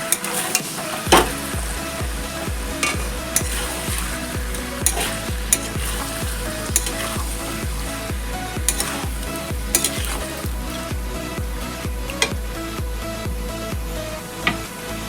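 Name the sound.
ground spices being stirred and fried in pan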